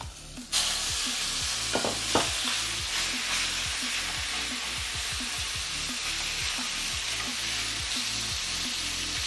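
Chicken thigh pieces sizzle and fry in a hot pan during a low-carb stir fry, a loud steady hiss with repeated scraping and stirring strokes as the meat is spread around, no talking.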